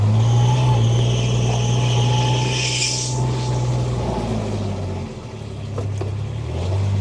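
A 2017 Kubota RTV-X900 utility vehicle engine runs steadily in low range, a close, loud continuous drone with a rising whine midway and a brief dip near the end, no talk.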